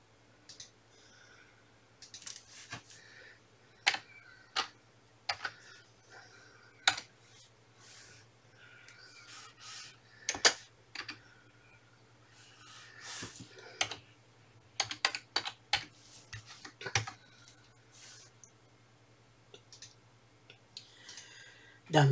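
Typing on a computer keyboard while working in Cricut Design Space, with scattered sharp keystrokes and clicks in irregular bursts over a steady low hum, close and moderately quiet.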